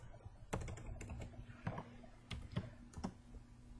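Quiet, irregular clicks of typing on a computer keyboard: a few separate keystrokes spaced through a short, calm stretch with no talking.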